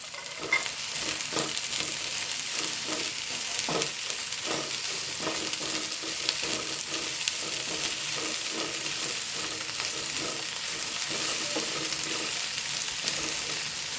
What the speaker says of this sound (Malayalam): വെളിച്ചെണ്ണ ചൂടായി വെണ്ടയ്ക്ക് ഇട്ട് കൊടുക്കണേ ഒന്ന് വഴറ്റി കൊടുക്കാം കേട്ടോ